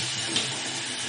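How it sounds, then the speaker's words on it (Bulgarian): Rice being rinsed under a running kitchen tap, a steady broadband rush of flowing water with a faint splash partway through. It is fairly close and continuous, with no voices. "Мием ориза под течаща вода"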